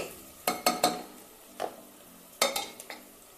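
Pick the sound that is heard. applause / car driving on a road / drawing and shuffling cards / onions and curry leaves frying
onions and curry leaves frying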